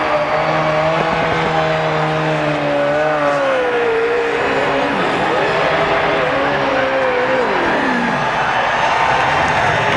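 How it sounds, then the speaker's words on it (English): A NASCAR Nextel Cup race car engine roars loud and close at the 2004 Chevy American Revolution 400, its pitch rising and falling through gear changes over a continuous blanket of crowd and track noise. "Listen to that engine. Holy cow."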